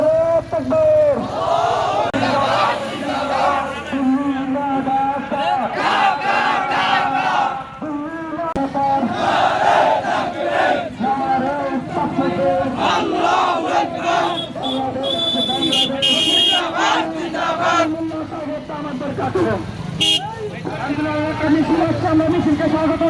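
A Hefazat-e-Islam protest march in Lakshmipur, Bangladesh, demanding an ISKCON ban and justice for a lawyer killed in Chattogram, with a loud crowd rhythmically chanting slogans in unison, led by an amplified voice, steady and close throughout.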